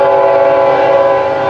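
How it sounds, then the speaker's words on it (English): Southbound FEC 109 train sounds a loud, sustained horn close by, a steady harmonic blast that fills the moment. "this is FEC109 on its way south"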